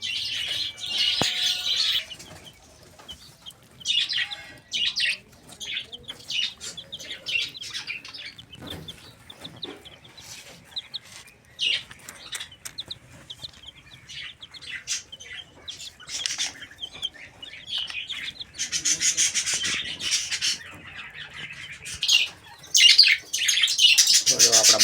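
Budgerigars in a home aviary chirp in busy, high twittering bursts, with wing flaps and occasional clucks from nearby fowl over a continuous chatter.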